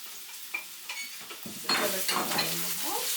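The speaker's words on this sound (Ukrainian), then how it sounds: "Цибульку смажимо на олії, на маслі чи на маргарині." Onions frying with cracklings in oil in a pan, stirred with a utensil: a steady hiss and sizzle with scraping and clinking strokes, louder after the first second or so, no talk.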